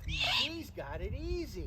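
A great horned owl at a show in Connecticut repeats wavering, raspy begging calls, close and steady, while someone talks over them.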